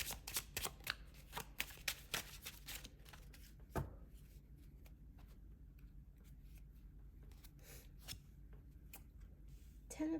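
Tarot cards shuffled by hand close up, a quick run of crisp riffling snaps at first, then quieter intermittent card shuffling and handling.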